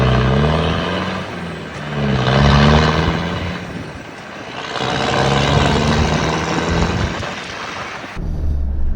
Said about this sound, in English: This Defender's obviously also had a full stainless exhaust fitted.